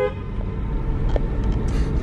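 Car horns toot amid New York City traffic, a short burst of honking over a steady road rumble of idling and passing vehicles, fairly loud and with no one talking.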